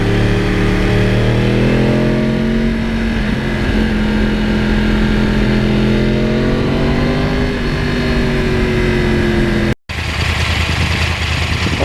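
A 2009 Yamaha R1 crossplane engine rumbles steadily up close, its pitch rising and falling with the throttle, then cuts briefly before the rumble resumes.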